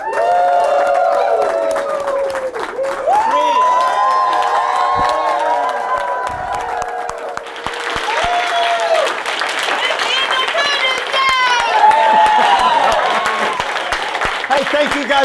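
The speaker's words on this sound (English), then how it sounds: "Give everybody a big round of applause" A lively crowd at a public speaking contest celebration bursts into sustained applause and cheering, with dense clapping, whoops and shouting voices that continue loudly throughout.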